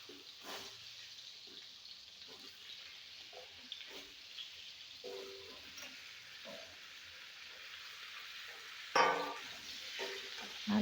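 Squash and potatoes fry in a pan with five-spice and bay leaf, a soft continuous sizzle broken by scraping stirs at a fairly even pace, close but quiet, with a brief louder clatter near the end.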